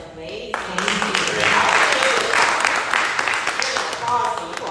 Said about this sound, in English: Applause to you all.